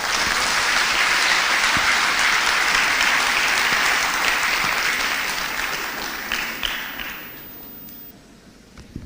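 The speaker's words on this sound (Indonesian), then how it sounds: "Tepuk tangan yang meriah bagi Bapak Ganjar Pranowo" Lively audience applause for presidential hopeful Ganjar Pranowo at a national lecture at Universitas Indonesia, a full hall clapping loudly and steadily before thinning into scattered claps and dying away.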